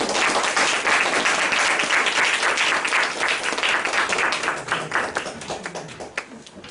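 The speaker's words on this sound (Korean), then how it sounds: "박수로 모시겠습니다" A church congregation applauds to welcome a professor giving a sermon, loud dense clapping that holds steady and then thins into scattered claps near the end.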